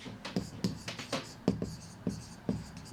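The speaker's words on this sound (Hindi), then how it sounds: "पहले मैं इधर लिख देती हूँ" A marker or chalk scratches across a board in a lecture, making quick, close strokes in short bursts of about eight taps and swipes.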